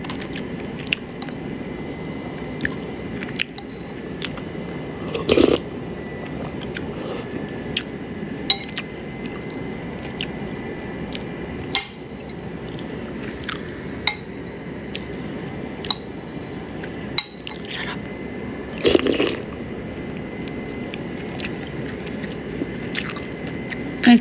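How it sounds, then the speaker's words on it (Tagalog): Someone chews a mouthful of rice close to the mic, soft wet squishing and smacking sounds repeating steadily with occasional sharper clicks, no talk over it. "I can't believe I'm eating rice."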